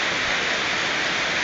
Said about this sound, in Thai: ฝนตกใส่ตอนเที่ยงพอดีเลยนิดหน่อย